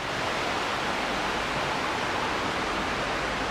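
A creek flows steadily beside a cabin at a motorcycle campground in the Blue Ridge, a loud, close, constant broadband rush of water that fills the whole stretch without pause.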